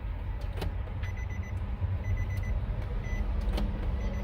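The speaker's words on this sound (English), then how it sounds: "I'm gonna turn the ignition on again" A 2013 Nissan 370Z with a start-stall fault has its ignition switched on, bringing a steady low electrical hum with short high chime-like beeps repeating at intervals.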